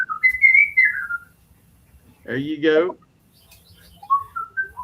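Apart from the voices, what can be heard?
human whistling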